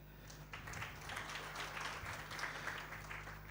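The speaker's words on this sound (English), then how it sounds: "a round of applause to our panelists." Conference audience clapping for a panel of speakers at a capital markets event, a sustained round of applause of moderate level over three and a half seconds, with a faint hum in the background.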